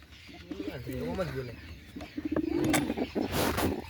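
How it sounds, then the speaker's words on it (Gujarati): Soft pigeon cooing, low warbling calls close by, mixed with speech and some background rustling. "આ છે આપણું કબૂતર"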